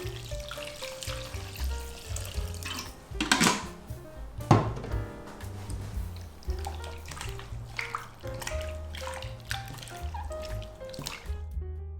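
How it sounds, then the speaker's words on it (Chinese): Flour dough being washed by hand in a bowl of clean water to separate the gluten: wet sloshing, squishing and dripping with occasional louder splashes, close and steady, with no talking. "我们就把水倒出来，继续加入清水继续洗"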